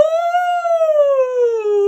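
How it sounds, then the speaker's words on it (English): A dog howls in one long, loud, sustained tone that rises slightly then slowly falls, heard alone and close as a sound effect in a spooky audiobook. "a howl so terrible it was unlike any howl of any dog I'd ever heard"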